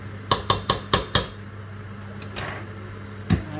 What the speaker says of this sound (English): We just need to keep mixing it so it doesn't like turn into balls.